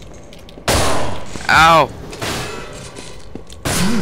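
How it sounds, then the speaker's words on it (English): Gunfire bursting out of the walls in the horror game UnderHell, loud sharp bangs in separate bursts, with a startled voice crying out between them. "Just bullets coming from the walls."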